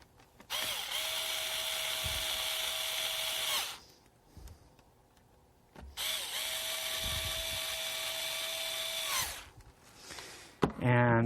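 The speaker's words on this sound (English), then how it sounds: "you simply put the cover back on and tighten the screws back up" A small power screwdriver whirs in two long steady runs, tightening screws on a laptop's access cover, with a quiet pause between and a click at the end.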